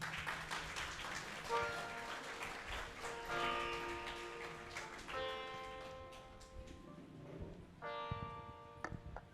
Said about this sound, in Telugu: అందరిగా గట్టిగా చప్పట్లు కొడదాం